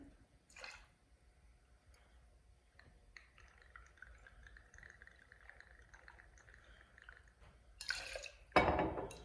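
Simple syrup, lemon juice and Solveig gin are poured into a metal shaker tin, heard as quiet trickling and dripping, with a couple of louder clinks and splashes near the end.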